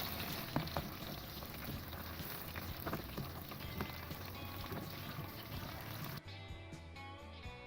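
Fish sizzles steadily in hot oil in a pan as a Lahori fish fry cooks. A dense, crackling hiss runs throughout and shifts in texture near the end, when the fish is turned to cook the other side.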